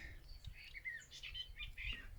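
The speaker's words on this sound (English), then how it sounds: "Birdsong here in this little back end of the garden behind this shrubbery." Birdsong in the quiet back corner of a country garden behind a shrubbery on a spring morning, several birds chirping and trilling in overlapping phrases at moderate distance, with low rumbling background noise.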